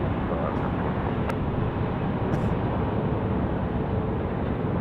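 An airliner rolls out on runway 34 at Sydney Airport, a steady broad jet roar that holds at constant loudness throughout, fairly close, with faint brief tones over it.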